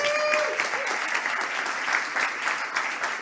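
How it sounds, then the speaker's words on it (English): A crowd at a female founders stage event applauds, a continuous wash of dense clapping at fairly even loudness throughout, with a brief voice or tone near the start. "Big applause."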